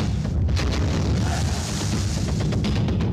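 Diwali firecrackers burst in a loud, continuous rumble of booms and pops, with sharp cracks layered over a heavy low roar.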